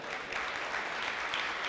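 Audience applause at a humorous poetry gathering: a steady wash of many hands clapping together, fairly faint and continuous without pause.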